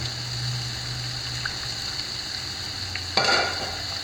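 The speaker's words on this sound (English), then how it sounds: "I'll just lay mine into the pan. So what I like to do is I just like to, darken up both sides, get them nice and crispy." Bluefish and striped bass fillets laid into a hot pan to crisp, a steady close sizzle with a faint hum underneath and a brief louder spatter near the end.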